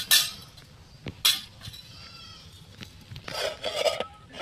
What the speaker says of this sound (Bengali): একটা ঢাকনা দিয়ে দিই।